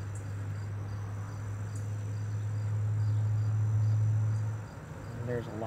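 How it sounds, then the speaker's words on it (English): A low, steady drone of honey bees buzzing on a hive frame close by, swelling slightly, then easing near the end, with a faint high ringing in the background. "And there's a lot of bees on here."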